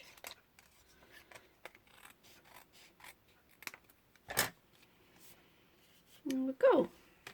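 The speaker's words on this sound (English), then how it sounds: "And then I'll use these scissors. Just going to trim along that edge." Scissors trim the edge of a paper card for a handmade rocker card, making quiet, scattered snips and rasps. A couple of louder cuts come near the end, and a voice is heard briefly.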